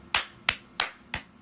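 Hands clap together four times at an even, steady pace, each clap sharp and close with a short decay, alone with no talking.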